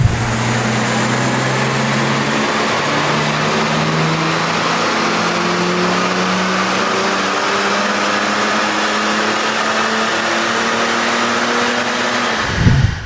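A BMW 430d diesel engine under stage 3 tuning holds a loud, steady drone on the dyno, its tone stepping up and down through held revs, then briefly surges near the end.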